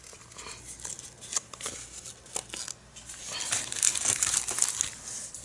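Scissors snip and crinkle through a paper journal tag, a run of close, crisp cuts and rustles with no talking.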